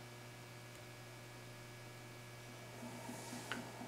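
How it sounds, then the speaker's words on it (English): An electric motor turns a gear-testing rig at set speeds, giving a faint, steady low hum with a constant tone that runs unbroken throughout, with no talking. "it spins the motor at a couple set RPM speeds and measures the amount of required torque to do that"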